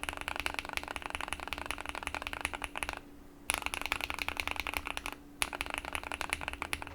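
Fast, close typing on a mechanical keyboard with Gateron Black Ink switches, a dense stream of deep clacking keystrokes that breaks off for two short pauses before resuming.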